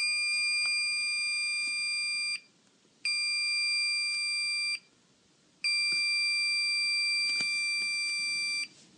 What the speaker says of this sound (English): What we've prototyped there is an alarm for when somebody opens your fridge.